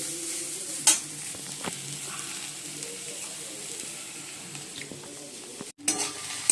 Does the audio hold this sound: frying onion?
yes